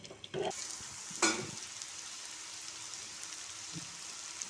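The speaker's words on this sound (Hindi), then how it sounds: "अब हम इन्हें फ्राई करेंगे।" Boiled potatoes frying in oil, a quiet, faint sizzle with a couple of sharp clattering knocks from a utensil near the start, then a soft steady hiss.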